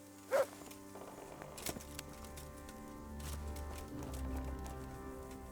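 Horse hooves in the medieval game Kingdom Come: Deliverance, a faint steady clopping that carries through, with a brief louder thump near the start and a low rumble swelling toward the end.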